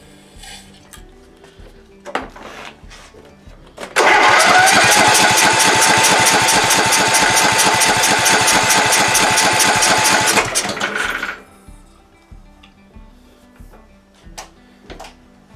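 An ailing MTD Gold lawn mower engine, primed with WD-40, fires up and roars loudly for about seven seconds before cutting out, with scattered metallic clanks before and after.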